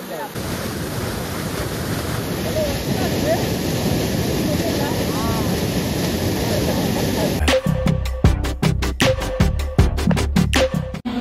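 Rushing water roars loud and steady at the Lal Thane waterfall near Safale, a constant broadband rush with wind buffeting, ending in rougher, choppier bursts.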